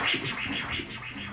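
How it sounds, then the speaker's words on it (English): DJ baby scratch played through a mixer echo effect, several rapid back-and-forth record swipes blurred together by echo tails, fairly soft and heard alone. "Or a baby scratch can sound like this."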